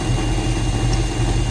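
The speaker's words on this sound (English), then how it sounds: "I hear an exhaust leak" The engine of a 1981 Trans Am idles with an exhaust leak, a steady, close, low rumble with no pauses and no voices.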